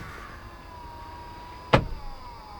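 The power seat motor of a 2022 Hyundai Staria hums steadily as the seat moves into its comfort position, then stops with a single sharp clunk and a short rattle, with no talking.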